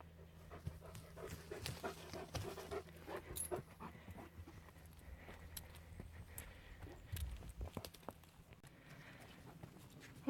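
Several dogs pant and snuffle close by during a forest walk on a steep uphill path, with soft footsteps and rustling throughout.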